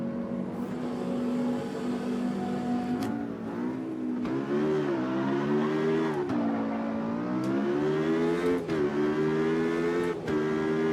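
Race car engine in Automobilista 2 revs up and down through gear changes, a loud close harmonic snarl that rises in pitch, drops sharply at each shift, and climbs again, with no talking.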